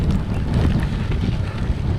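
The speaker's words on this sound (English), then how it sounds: "it's very windy" Strong wind buffeting the microphone during a bike ride on flat open ground, a steady loud low roar with gusty rumble and no speech.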